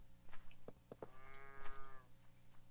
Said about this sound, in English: Pretty sure that was the cow's way of saying thank you for putting the straw down